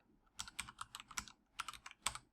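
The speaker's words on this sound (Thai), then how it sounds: "แนะนำให้พิมพ์คำว่า local host นะครับ" Fingers type the word localhost on a computer keyboard, a quick burst of crisp, close key clicks with a short pause partway through, no voices.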